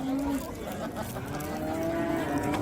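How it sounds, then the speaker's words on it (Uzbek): Cattle at a busy livestock bazaar low loudly, with drawn-out moos rising over a dense crowd murmur and nearby chatter. "Baraka topib ekan sigir ekan. Oh, mollar qaranglar."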